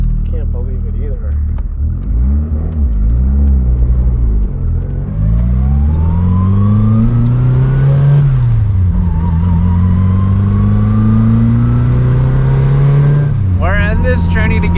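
A 1970 Datsun 240Z fitted with an SR20DET engine drives along, its engine note rising and falling through gear changes in a loud, close, continuous drone, with people talking over it.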